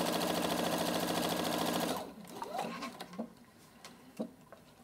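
A sewing machine runs a topstitch along the presser-foot guide, a fast steady mechanical stitching whir for about two seconds that stops, followed by faint handling clicks and taps.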